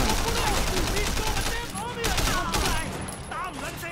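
Loud bursts of rapid gunfire and repeated shots in the video game Sleeping Dogs fill the clip, dense and continuous, with voices shouting underneath.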